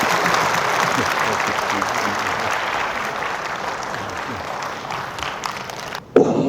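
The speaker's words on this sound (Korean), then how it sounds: "다시 한번 큰 박수 부탁드립니다." Dense, sustained applause from an audience at a book concert in Gwangju fills the room, steady and loud before a brief drop and a sharp knock near the end.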